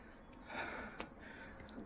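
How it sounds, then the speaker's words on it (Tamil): Heavy, labored breathing from someone who has just climbed a hill to a hilltop Shiva temple at Acharapakkam; faint, close breaths with a sharper gasp near the middle, no talking. "மூச்சு வாங்குதுங்க."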